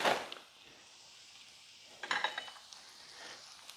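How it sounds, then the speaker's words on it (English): Quiet frying hiss from vegetables in a pan for cabbage, sausage and seafood jambalaya, faint and steady, with a couple of clattering stirs against the cookware. "Can you hear it sizzling already?"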